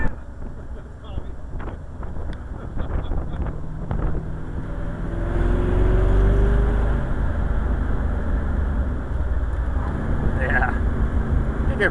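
A vehicle's engine swells in a low rumble as it accelerates out of a turn, buried under heavy wind buffeting on the microphone while people talk over it.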